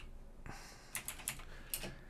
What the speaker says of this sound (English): what we're going to do is going to type in product